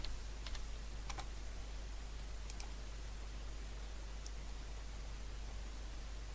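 Typing on a computer keyboard, a few short bursts of quiet key clicks over steady hiss, no talk.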